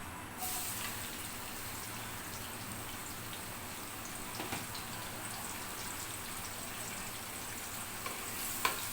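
Chopped onion hits oil left from frying potatoes for tehari, giving a soft, even sizzle that holds steady throughout, with a couple of small clicks near the end.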